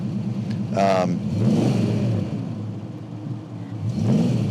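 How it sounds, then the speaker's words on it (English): A 1967 Ford Mustang with a 289 V8 up front runs with a deep, continuous muscle-car rumble, rising in a couple of revving swells. Brief bits of talk sound over the engine. "It's got a great muscle car sound to it. 289 up front."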